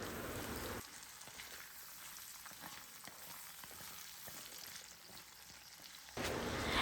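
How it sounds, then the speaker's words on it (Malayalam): Shallots and curry leaves fry in coconut oil for a chicken peratt, a soft, steady crackling sizzle with faint stirring ticks, framed by a louder, hissier burst at the start and end. "ആ ഒരു വെളിച്ചെണ്ണയിൽ ഈ ഒരു ഉള്ളിയും കറിവേപ്പിലയും കൂടി നന്നായിട്ടൊന്ന് മൂത്ത് വരണം."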